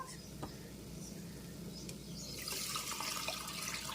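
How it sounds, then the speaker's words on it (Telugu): Strained tamarind water is poured into a pan of dry fish and gori chikkudu curry, a faint, steady liquid trickle and splash with light background ambience. "చింతపండు నీళ్ళు,"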